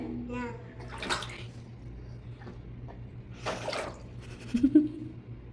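Water poured over a baby during a bath, two splashing bursts a couple of seconds apart with a voice and adult talk around them, fairly close and soft.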